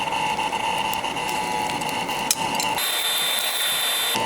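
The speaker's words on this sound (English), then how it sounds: "my hairdryer sounds like it's about to have a heart attack" A struggling hairdryer runs steadily with a whining, strained tone and a constant airy roar, shifting pitch partway through, with no talk.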